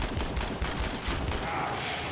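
Enemies firing guns from all sides in the co-op shooter Warframe, a dense, continuous volley of overlapping shots with a steady low rumble, no pauses for about two seconds.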